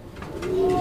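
A Giribaz satin pigeon gives a soft, low coo, one short rolling call close by against a quiet background.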